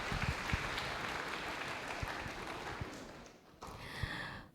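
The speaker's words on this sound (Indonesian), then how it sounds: "ya boleh tepuk tangan untuk Nusa Putra University." An audience at a university public lecture applauds in a steady, fairly faint wash of clapping with a few distinct claps, tapering off near the end as a voice comes in.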